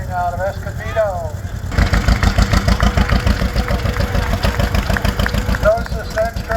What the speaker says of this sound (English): Notice this next tractor, you can really see it as it comes up the grade ground.